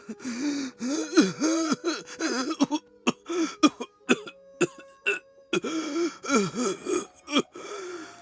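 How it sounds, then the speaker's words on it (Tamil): A man coughs hard and repeatedly, with wheezing gasps and throat clearing between bursts, in an irregular, close, labored rhythm with no speech. "மாமாக்கு இருமல் ரொம்ப மோசமா இருக்கு."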